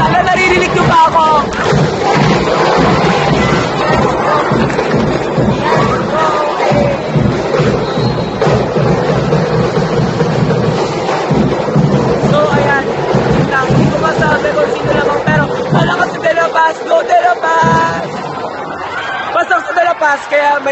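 A noisy crowd at an NCAA volleyball game, a constant roar of chatter and cheering that stays loud the whole time, with a close voice talking over it.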